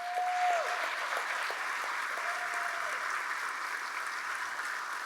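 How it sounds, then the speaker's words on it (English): A large crowd at a Southern Illinois town hall applauds law enforcement officers and first responders: a soft, even wash of distant clapping that stays steady throughout, with a faint tone sliding in at the start. "a huge round of applause."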